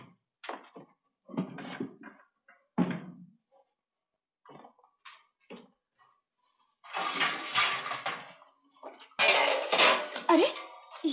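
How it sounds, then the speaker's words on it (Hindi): Metal pots and pans being dragged and gathered in a home, heard in an old Hindi film drama: scattered clanks and scrapes at first, then longer, louder clattering runs near the end. Faint voices come in between. "सारे बर्तन क्यों घसीट रहे हो?"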